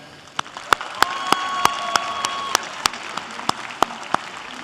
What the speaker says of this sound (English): Let's give a big round of applause to both Charlie and Santush.